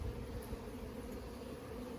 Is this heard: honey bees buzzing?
yes